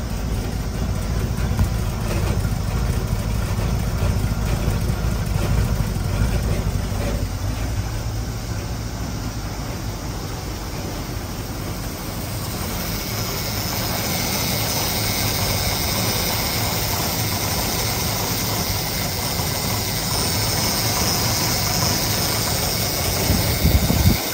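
Engine of a 1923 Studebaker Touring car running steadily at a dealership, a continuous low idling rumble with mechanical vibration that holds at a fairly constant level throughout, with no voices.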